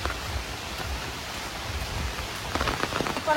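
Steady rain falls outdoors in a rural home setting, a dense even hiss with scattered drops pattering on surfaces, growing slightly heavier toward the end.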